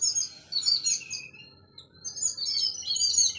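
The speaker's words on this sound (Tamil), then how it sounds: "கிளியெல்லாம் குருவியெல்லாம் வந்து சாப்பிட்றதுக்காக ஒரே சவுண்டு போட்டுட்டு" Sparrows and parrots chirp and call in a home garden, in bursts of high, fairly faint tweets that pause briefly midway and then return busily.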